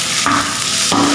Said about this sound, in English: we need to fry all our potatoes